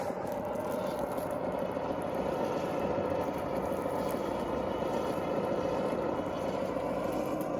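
An HG P802 Oshkosh HEMTT RC truck with an upgraded brushless motor runs with a steady, even whirring drone that holds at a constant level throughout.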